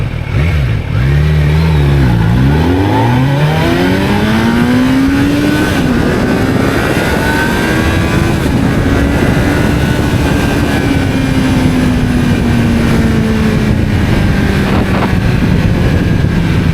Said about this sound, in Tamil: இப்போ நம்ம த்ராட்டில் பண்ணும்போது நம்ம 0 to 100 மட்டும் பார்க்கலாம்.